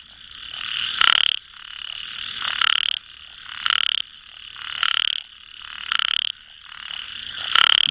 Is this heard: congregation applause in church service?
no